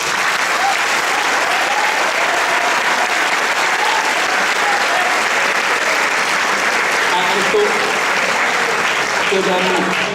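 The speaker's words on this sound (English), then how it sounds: "So a round of applause for all them." A dense, loud audience applause at a 2016 boys' Shakespeare competition final awards ceremony, sustained evenly for the full length as a roaring wash of many hands, with no break.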